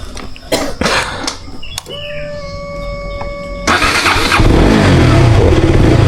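A Duke motorcycle is started. A few short knocks and steady electronic tones come first, then the engine catches abruptly and settles into a loud, close, continuous running rumble.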